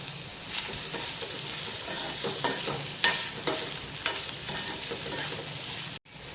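Chopped chow chow (chayote) sautéing in a pan, with a steady close sizzle under repeated scraping stirs and a few sharper clanks of the spoon against the pan; no talking.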